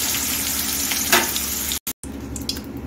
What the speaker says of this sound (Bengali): এখন আমি মাছটা ভেজে নিচ্ছি।